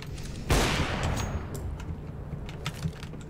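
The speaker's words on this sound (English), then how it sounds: "Flashbang out." A flashbang grenade detonates in a shooter video game: one sudden loud blast, then a long ringing, hissing decay with scattered faint gunfire-like pops over the following seconds.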